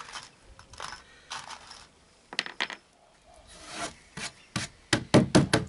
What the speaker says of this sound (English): I'm going to stick a couple more screws in just to make sure